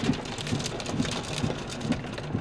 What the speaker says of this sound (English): It's fucking hailing.